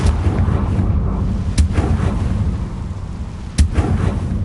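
The Confringo blasting spell goes off twice in the Hogwarts game, sharp explosive cracks over a steady low rumble of background noise, with nothing else in the foreground.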